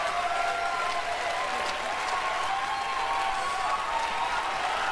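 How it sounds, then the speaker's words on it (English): Audience applause at the Gearbox PAX East 2019 Borderlands 3 presentation: a dense, even wash of clapping from a large crowd that holds steady for the whole stretch. "Finally, he's got a genuine round of applause."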